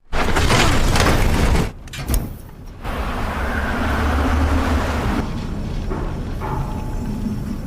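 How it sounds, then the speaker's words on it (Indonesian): A generator switched on and left running inside a remote Antarctic research station, a steady mechanical drone with some clunks and shifts at the start, then an even hum that continues alone to the end. "Saat keluar di sana Fu Chun menemukan genset. Kemudian dirinya pun menyalakannya hingga keadaan di dalam pun terang."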